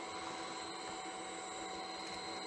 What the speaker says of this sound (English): Right then, we'll sand that.